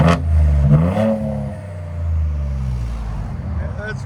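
A 2024 Ford Ranger Raptor with a 3.0L twin-turbo V6 and an aftermarket exhaust revs up sharply, then settles back into a deep, throaty idle. The engine is close and loud, with a brief voice over it.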